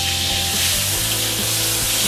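Tomatoes frying in hot oil for a tomato sambal, a steady dense sizzle with crackling that carries on without a break, close and fairly loud, with no voices.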